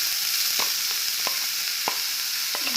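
A chopped snack mix fries in hot oil in a pan, a steady close hiss of sizzling broken by soft periodic scrapes and stirs.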